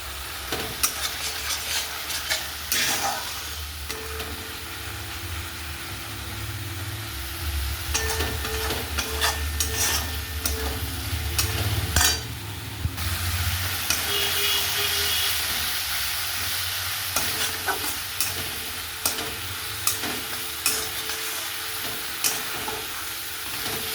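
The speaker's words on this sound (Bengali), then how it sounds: "মশলাটা এবার কষে নেবো জল দিয়ে" Masala spice paste frying in a pan for rohu fish curry, a constant close sizzle and hiss with repeated scraping stirs of a spoon, a sharper burst of steam as water goes in midway.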